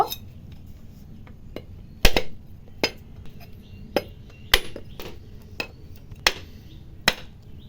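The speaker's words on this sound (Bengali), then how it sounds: "একটা নারকেল নিয়েছি নারকেলটা ফাটিয়ে নেব" Coconut being struck to crack it open for cooking, a series of sharp hard knocks at irregular intervals, about a dozen close blows with a few louder cracking hits.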